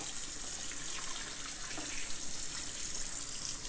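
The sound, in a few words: cold tap water running, rinsing collard greens in sink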